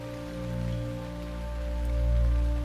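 Steady rain in the video game Teardown hisses across the whole clip, layered over a constant low hum and tonal drone, with no voices.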